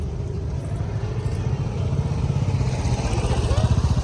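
A motorcycle engine idles nearby with a rapid, steady putter that grows slightly louder, mixed with faint background voices.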